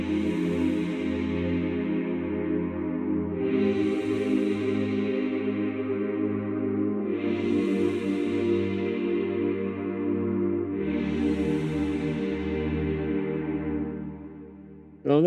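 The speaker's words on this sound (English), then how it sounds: "Just take the root note, pull it down an octave, and bam, you had a bass note in the chord." Sustained women's choir chord with a bass note added an octave below the root, held as several long swelling chords in sequence, soft and smooth with no talking.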